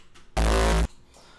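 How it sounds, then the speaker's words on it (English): A synthesized kick drum tail with a bass boost and distortion added, heard alone as one sustained, heavy, buzzing low tone that cuts off abruptly after about half a second. "I added a little bit of a bass boost and a distortion to get it sounding like this."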